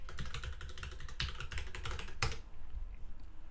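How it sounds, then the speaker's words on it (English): Rapid keystrokes on a computer keyboard as a password is entered during WSL setup, a dense run of close, crisp clicks with a brief pause and one louder burst near the end, no talking. "and then type it in again"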